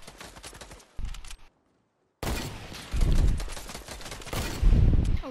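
Video game gunfire crackles in repeated bursts of rapid shots separated by a short silent gap, loud and close, with no talking.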